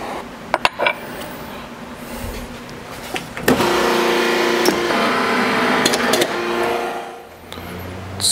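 A press driving an 18kt gold ring band into an antique die, a few sharp metallic clicks and then a sustained whirring mechanical hum for several seconds that winds down near the end.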